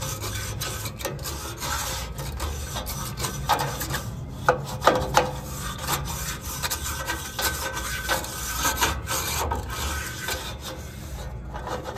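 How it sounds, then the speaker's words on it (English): A brush scrubs a clogged condensate drain pan with continuous raspy rubbing strokes, moderately loud and close, with no talk over it. "Take our brush and clean this pan."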